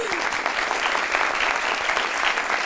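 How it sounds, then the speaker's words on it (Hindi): A studio audience at the Pakistani talk show Had Kar Di applauds steadily, with close, dense clapping that holds an even level throughout and no voices over it. "क्या अच्छे आदमी, सिराज भाई के लिए तालियां।"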